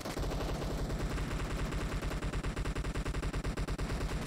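Rapid, sustained automatic gunfire in a pyramid-themed video game as snakes are shot, a dense unbroken stream of loud bursts filling the whole stretch with no pauses.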